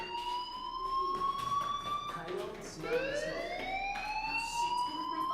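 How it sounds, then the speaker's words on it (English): A school fire alarm in the video game Life is Strange rings continuously as a loud, steady electronic tone with a rising sweep partway through, sounding close and filling the scene throughout. "Hey, do you hear that fire alarm? That means you should be outside."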